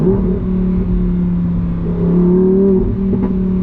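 Lamborghini Huracan Tecnica V10 engine heard from inside the cabin with the windows up, a loud steady drone that shifts pitch mid-way as it downshifts, with no talk over it.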